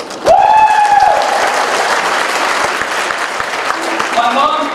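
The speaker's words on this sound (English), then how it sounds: "My mom thanks you for that applause." Audience applause welcoming a speaker onto the stage at a wedding industry show, a loud sustained round of clapping that starts abruptly and holds steady, with a brief cheer or whistle near the start.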